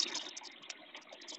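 Water flows from a garden hose hooked to a faucet, a faint, irregular splashing gush that runs on steadily without speech.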